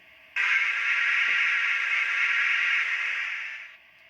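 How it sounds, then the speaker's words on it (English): A single long steam whistle from the sound system of a Model Power N scale American 4-4-0 model locomotive blows, a bright steady multi-toned tone that starts abruptly, holds for over three seconds, then fades off. "now F2, the whistle."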